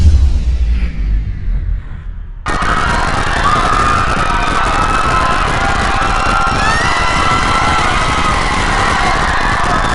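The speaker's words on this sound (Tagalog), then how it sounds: "Matik sigaw ang kasunod pag nag-brown out." A crowd erupts in shouting and cheering the moment the power cuts out during a brownout, a loud, sudden burst of many voices that stays dense and sustained after a quieter, murmuring start.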